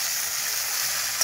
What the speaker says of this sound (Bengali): মোটামুটি ভাজা ভাজা হয়ে এসছে ভেন্ডিটা